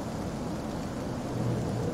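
Steady heavy rain pours with a low rumble of thunder in the horror video game Fears to Fathom, a dense continuous wash with no voices.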